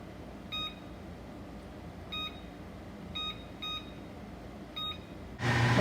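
Five short, evenly pitched electronic timer beeps spaced irregularly over a low hum while quinoa cooks, set for five minutes, fairly faint, ending in a louder burst of noise.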